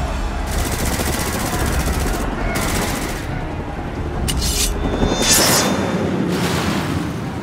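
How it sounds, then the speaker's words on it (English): Cannons fire in a Final Fantasy XIV battle scene, bursts of booming gunfire and rapid blasts over a dense rumbling din, with voices shouting amid the barrage. "All cannons, fire at will!"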